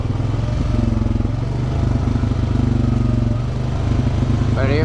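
An off-road vehicle engine labors in four-wheel drive on a Hatfield-McCoy trail in West Virginia, a close, throbbing rumble that rises and dips as the engine strains, ending with a brief higher-pitched whine.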